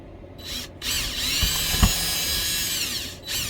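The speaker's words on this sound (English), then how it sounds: "So we'll just drill some pilot holes here." A power drill whirs steadily for a few seconds drilling pilot holes, starting and stopping in short bursts, close by.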